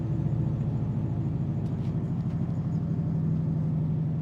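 Steady low rumble of a rear-wheel-drive LS turbo Pontiac Grand Prix engine while driving, a continuous droning hum heard from inside the car without talking.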